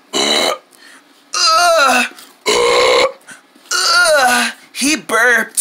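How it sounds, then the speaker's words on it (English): Loud, drawn-out burps come one after another in five or six bursts, right after someone finishes a whole pizza, with short quiet gaps between them. "He burped."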